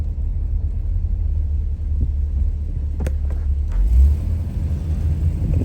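A 1962 Ford Thunderbird's 390 four-barrel V8 idles and cruises with a deep, steady low rumble, briefly swelling in loudness near the end as it picks up.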